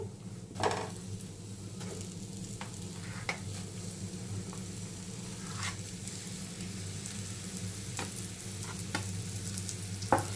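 Mashed potatoes are stirred into sizzling spices in a pan over a low flame. A steady close frying hiss runs throughout, broken by repeated scraping strokes of the spoon against the pan.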